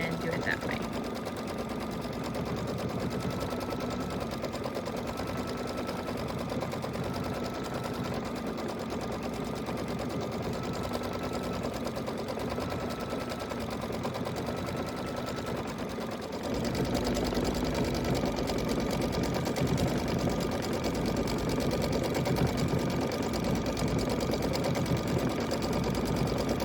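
A Baby Lock embroidery machine stitches a quilt block in the hoop with a steady, fast mechanical whir that runs continuously from start to finish, growing slightly louder partway through.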